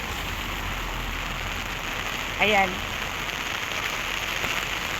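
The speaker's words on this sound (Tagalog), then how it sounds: "Grabe ulan." Heavy rain pours down steadily in a dense, even hiss of drops on surfaces, with a woman's short spoken word cutting in briefly midway.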